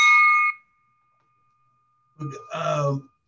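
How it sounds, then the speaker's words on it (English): A single handheld bell struck once at a Rotary Club luncheon meeting, a bright ringing tone that fades quickly, followed by a moment of silence and then a person speaking. "I ring the bell on his behalf"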